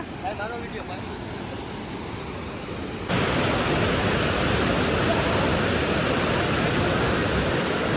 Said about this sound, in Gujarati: તમે જોજો ખાલી પાણી કઈ રીતનું જાય છે એટલું ફાસ્ટ